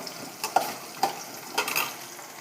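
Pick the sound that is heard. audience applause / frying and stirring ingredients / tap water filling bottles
frying and stirring ingredients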